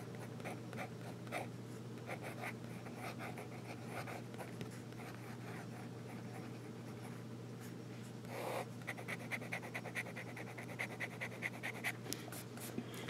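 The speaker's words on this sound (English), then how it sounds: "this nib writes really nice as well, with a hint of feedback in a good way" A fine-nib fountain pen scratches across paper in steady, close, soft strokes with a faint room hum underneath, growing slightly busier and more textured in the final seconds.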